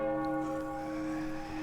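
In the video game Serious Sam 4, a church bell rings steadily in one long sustained toll with rich humming overtones, moderately quiet and heard alone.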